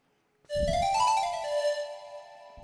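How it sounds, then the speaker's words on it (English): A single breathy synth pan flute note from Reason's Grain synthesizer in poly mode, with a soft chiff at its start, holding steady and fading out, alone with no talking. "Which is cool if you want that pan flute sound."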